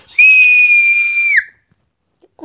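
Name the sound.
person screaming during an air hockey game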